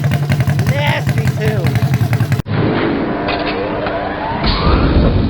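A Honda CB350 motorcycle engine, an old basket-case bike with freshly tuned carburetors, starting and then running loud and close with a steady rough idle, after a burst of loud sound before it catches.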